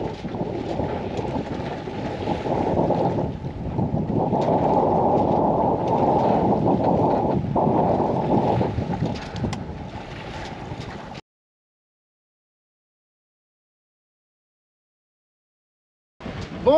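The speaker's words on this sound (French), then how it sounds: "on s'amuse à faire des virements de bord" Steady wind rushing over open water as a Jeanneau Eolia 25 sailboat tacks upwind, a broadband roar for about eleven seconds, then near silence, ending with a brief burst of noise.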